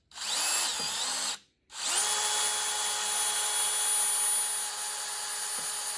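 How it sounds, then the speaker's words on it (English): Power drill boring 7/32 holes into a Mercruiser outdrive lower unit carrier, a loud steady whine with a brief stop and restart, running alone without talk. "I've drilled 2 7/32 holes"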